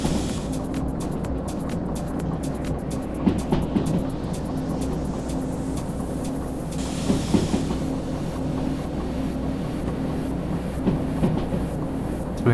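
Train locomotive in Derail Valley rolling and accelerating on rails, a steady heavy rumble with repeated rhythmic wheel clacks, close and continuous, no talk.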